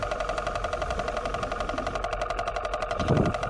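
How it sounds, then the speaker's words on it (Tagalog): A boat engine heard underwater during night spearfishing: a steady, droning motor hum with a rhythmic throb, muffled, with a slight swell near the end. "Kaya naririnig niyo sa ilalim, may ingay ng makina."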